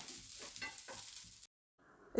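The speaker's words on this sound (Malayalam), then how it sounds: "അപ്പോൾ ഇതൊന്ന് വറുത്ത് വെക്കാം" Scraping and stirring as coconut is roasted in a pan over a soft sizzle, repeated strokes, then a brief silence before a louder clatter.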